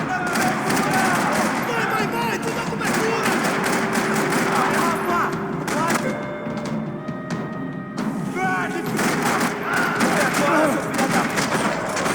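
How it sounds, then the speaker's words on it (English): Gunfire rattles across a parking lot in the video game Max Payne 3, loud and sustained bursts of shots layered over dense game action and music throughout. "Another parking lot rattling with gunfire."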